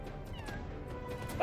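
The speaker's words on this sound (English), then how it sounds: "There's a cat." A cat meows faintly once or twice at a distance, short and soft over low background rumble.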